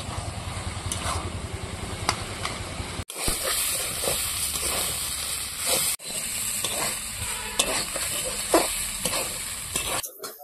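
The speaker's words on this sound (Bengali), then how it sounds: "এরকম আস্তে আস্তে এইভাবে খুন্তি দিয়ে হালকা হালকা করে এরকম নাড়তেই হবে" Mustard greens fry in a pan with a continuous watery sizzle while a spatula stirs them gently, giving soft scrapes and taps; the sound cuts abruptly twice, as if edited.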